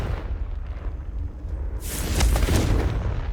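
Confringo fire spell exploding in Hogwarts Legacy, a low rumbling start followed by a loud bright crackling blast midway that lingers as a booming burst, with no talk.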